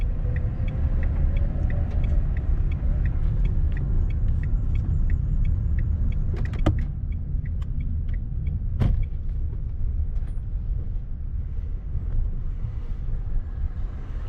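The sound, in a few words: car moving off in first gear, clutch released slowly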